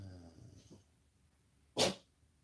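A pet dachshund gives a single sharp sneeze near the end, a short close burst after a few quiet snuffling breaths and faint sounds in a hushed room.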